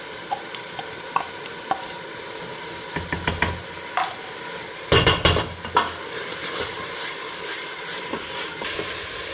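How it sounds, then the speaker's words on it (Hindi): A spoon stirs and scrapes tomatoes, potato and eggplant roasting in a pan, with scattered clinks and a bright burst of scraping in the middle over a soft sizzle, close and without talk. "सारे बर्तन को अच्छी तरह से करूंगी साफ़ और इसकी बहुत अच्छी मैंने भुनाई करनी है।"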